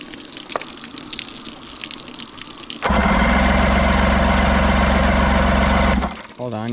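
Outboard race boat engine from an abandoned T850 boat starts abruptly partway in and runs loud and steady, close by, with a rough watery churn, then cuts off near the end.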